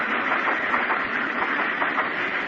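Old radio-drama sound effect of a freight train running on rails: a steady, rumbling clatter with a soft rhythmic clickety-clack, close and continuous without speech.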